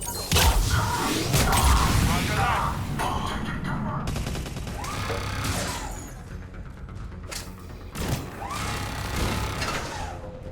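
Enemy fire hits a shield in Mass Effect 3. Loud bursts of automatic gunfire and metallic impacts come in clusters with short lulls between them, and a crash-like hit returns near the end.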